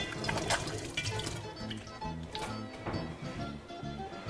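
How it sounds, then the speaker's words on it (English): A tap running at a kitchen sink as hands are washed, a close, uneven splash and patter of water over about four seconds, with no talking. "I'm just going to wash my hands briefly."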